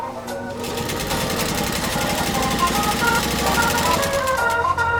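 Singer 201-2 sewing machine stitching through a single layer of genuine cowhide leather, a fast steady mechanical chatter of the needle running continuously and close, with no pauses.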